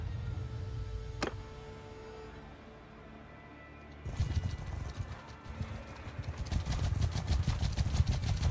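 Horses clip-clop during riding in the video game Mount & Blade 2, with a quieter stretch and a single neigh-like sweep before a dense, steady run of hoofbeats takes over and grows louder.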